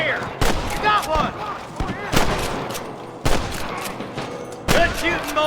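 Bursts of gunfire from a Red Dead Redemption shootout, several loud volleys in irregular succession with rolling echoes. Distant shouting voices sound between the shots.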